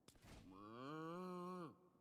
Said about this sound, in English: Every time I hear the moo, it throws me off.